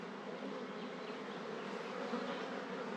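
Honeybees hum thickly over a hive frame overflowing with bees, a continuous close, even drone with no voices.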